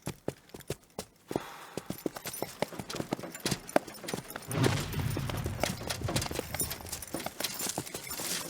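Hooves of a horse clip-clopping as it walks, a steady series of sharp, close knocks, later joined by a rustling, rumbling wash as the animal moves on through a wartime setting.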